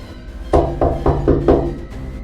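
Rhythmic tapping like fingernails on glass, five evenly spaced sharp knocks at roughly quarter-second intervals, close and fairly loud over a low steady background hum.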